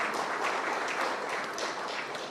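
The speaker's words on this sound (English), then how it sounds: "So clap for yourself." A symposium audience of veterinarians in a hotel hall clapping, a soft, continuous patter of many hands heard at some distance, fairly faint and even over the short span.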